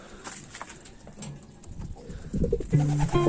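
Racing pigeons come home from a last training flight in Quezon, with soft cooing and fluttering nearby over a faint outdoor background that builds louder toward the end.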